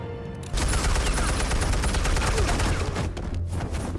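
Rapid gunfire in Batman: The Telltale Series, bursting in loud and sustained after a brief quieter lead-in, a dense crackling volley that thins slightly toward the end.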